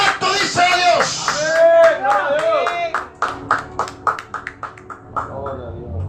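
Church congregation in Nicaragua applauding, a burst of clapping that starts amid loud voices and singing-like calls, then thins into scattered individual claps as it winds down.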